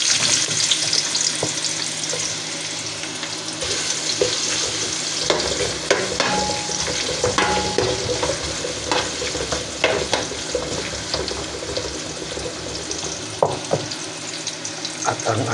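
Garlic and ginger frying with crab in a pan, a steady loud sizzle running throughout with scattered stirring clatter and scrapes, no talking.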